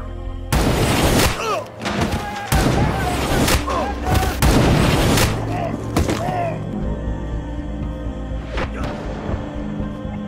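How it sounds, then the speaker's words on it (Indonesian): Sniper gunshots ring out in an action film, a series of loud sharp cracks and booms spaced irregularly, with a voice speaking over the shots. "Namun tiba-tiba sebuah tembakan melesat, satu peluru yang membuat satu persatu pasukan CIA tumbang."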